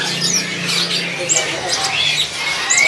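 Parrot-type hooked-beak birds at Pasar Burung Pramuka bird market, Jakarta, give sharp squawks and chirps close by, over a low murmur of voices and market noise.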